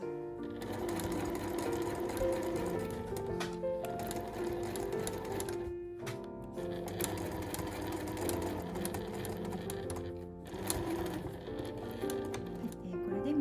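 A sewing machine stitches fabric for a pair of room pants, running in quick rapid bursts with brief pauses between runs and no talking.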